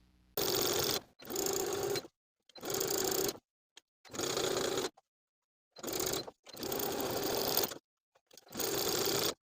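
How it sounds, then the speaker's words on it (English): Sewing machine edge stitching along the neckline of a jersey sweater dress: several loud, close bursts of rapid mechanical stitching, each a second or so long, separated by short silences. "And then we can edge stitch along the neckline right under the seam that we just sewed"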